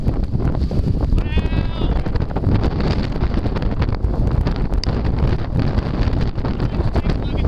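Wind on an Appalachian Trail hike, buffeting the microphone in a constant rough rumble, with a brief high wavering cry early on.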